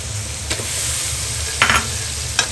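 Minced meat sizzles steadily in a pan with coriander, cumin, turmeric and chili powder, a continuous frying hiss broken by a few short scraping stirs of the spoon.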